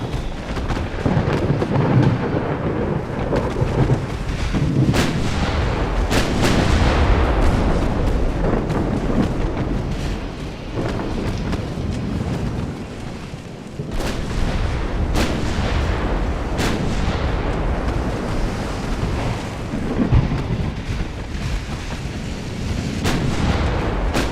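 Secondary guns firing in a naval warfare video game, a rapid string of heavy booming blasts rolling out one after another like thunder, loud and continuous.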